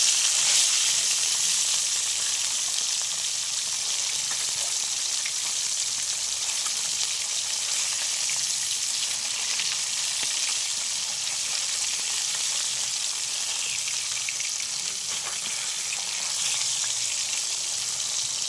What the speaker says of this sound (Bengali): মাছগুলো একটু ভাজা হয়ে গেছে আমি এবার উল্টে দেবো